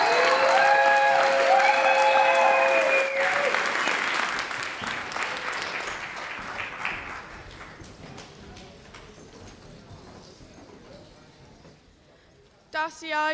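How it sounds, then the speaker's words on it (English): An audience claps at a dance celebration, with loud, dense applause at the start that fades out gradually and gives way to quiet room noise, ending with a short burst of sound. "Please give them a round of applause."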